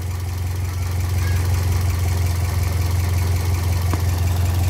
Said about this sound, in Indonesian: Mesinnya kering banget.